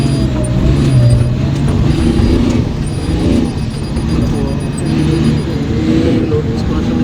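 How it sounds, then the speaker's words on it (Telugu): Heavy loaded haul trucks rumble past at a Singareni coal mine quarry, a continuous low engine drone with shifting road noise. "సో లోడ్ బండ్లు వెళ్తూ ఉన్నాయి, మనం చూస్తూ ఉన్నాం."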